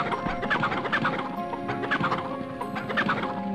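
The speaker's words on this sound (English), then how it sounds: "Get over there, chickens!" Game chickens clucking in MediEvil, a steady run of short, bright clucks over busy background game music and ambience, fairly close and continuous.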